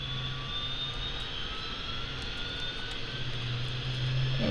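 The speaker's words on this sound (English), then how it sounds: "click start for engine 1, and you'll notice the RPM going up" Bell 222B helicopter engine starting in Microsoft Flight Simulator, heard as a steady turbine whine with a rising tone and a low hum that grows slightly louder toward the end, with no voices.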